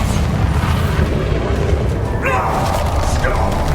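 Bombarda explosion spell cast in the video game Hogwarts Legacy, a dense rumbling boom that fills the whole stretch at steady loudness, with game effects layered over it.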